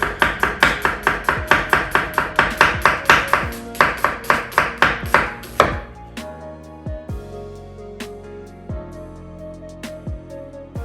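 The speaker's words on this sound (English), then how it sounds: "So now you just wanna cut along the lines." A knife julienning an onion on a cutting board: a fast, steady run of close, crisp chops for about six seconds, then a few slower, sparser taps with ringing pauses between them.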